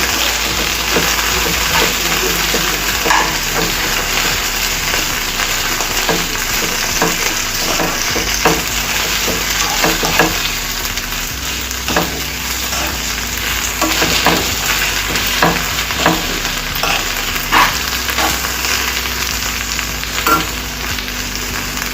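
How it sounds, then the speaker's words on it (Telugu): Masala okra (bhindi) fries and sizzles in a pan while being stirred, with steady loud frying hiss and repeated scraping clicks of the spoon throughout. "ఇలా వేసుకొని ఇదంతా ఒకసారి మొత్తం మిక్స్ అయ్యే విధంగా కలిపేసుకొని"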